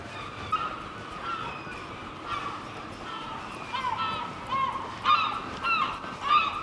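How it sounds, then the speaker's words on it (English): Seagulls call repeatedly in short squawks over steady outdoor ambience in a seaside town street in Whitby, growing more frequent and louder toward the end. "Hear the seagulls."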